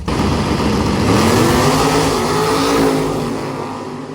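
Loud, roaring engines of nitrous-fed Chevrolet Nova drag cars racing past at a drag strip, a sustained powerful rumble that swells and then slowly fades.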